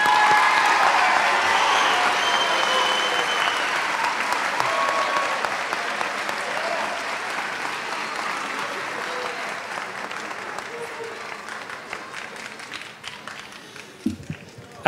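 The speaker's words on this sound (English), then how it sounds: "Let's give all of our students another round of applause" A school moving-up ceremony crowd gives a round of applause for students, loud dense clapping at the start that slowly thins and fades, ending with a few scattered claps.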